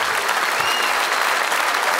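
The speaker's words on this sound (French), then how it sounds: "Marik, on l'applaudit très fort" Audience applauding a comedian at a stand-up gala in Montreux, a dense, loud, steady wash of clapping from a large crowd, continuous throughout with no break.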